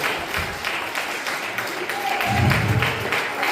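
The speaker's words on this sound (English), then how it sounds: "Come on, clap for yourself." A church congregation claps for itself during a service, steady close clapping throughout with voices and cheering mixed in, swelling slightly toward the end.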